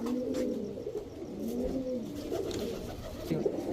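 A pair of trained high-flying Giribaz racing pigeons coo close by, repeated low rolling calls through the whole stretch, louder near the end, with no speech.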